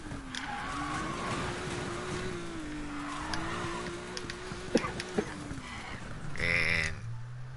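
In the Need for Speed Payback video game, a car brakes hard and its tires squeal and skid through a drift over a steady engine drone, ending in a brief sharp electronic tone, with no one talking.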